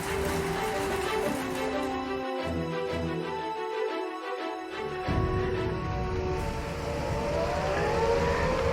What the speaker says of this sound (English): you can hear the tornado sirens going off in the distance